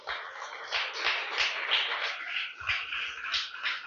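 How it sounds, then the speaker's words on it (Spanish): Church congregation clapping in praise during a service, a loose run of claps that keeps a rough, repeated rhythm, moderately loud and heard alone. "Dale fuerte aplauso al Señor"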